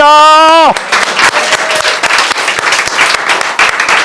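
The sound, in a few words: congregation applause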